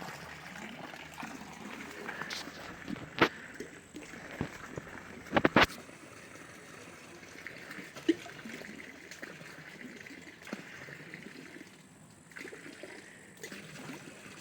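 Water trickling and flowing steadily outdoors in the Italian countryside near a farm, a quiet continuous babble with a couple of sharp knocks and splashes partway through.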